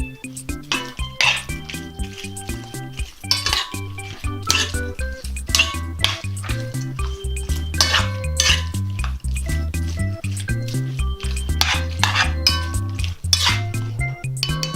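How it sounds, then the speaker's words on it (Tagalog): Squid adobo being stirred in a metal pot with soy sauce: repeated close clinks and scrapes of a utensil against the pot in an uneven rhythm, with a faint wet slosh beneath. "Hahaluin po natin to."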